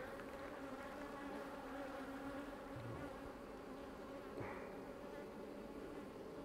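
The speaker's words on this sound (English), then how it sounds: "If this hive had swarmed already, there wouldn't be near this many bees in here." Honeybees hum in a dense, continuous drone from an opened beehive during a swarm-prevention split, close and steady throughout, with no voices.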